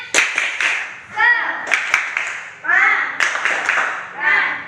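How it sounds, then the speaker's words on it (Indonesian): A class does a rhythmic Indonesian spirit clap in short patterned bursts of hand claps, mixed with voices chanting along, close and fairly loud. "Yuk, agar lebih bersemangat kita tepuk semangat."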